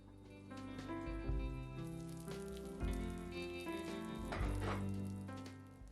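Food frying and sizzling in a covered pan during snack preparation, a steady crackling hiss that holds throughout at moderate level, with a few louder low thumps and bursts, no talking.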